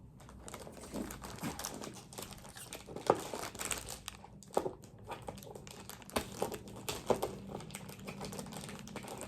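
An iPhone 16 Pro Max box being opened up close: crinkling plastic film, tearing and soft taps and scrapes of cardboard, quiet and irregular with no one talking.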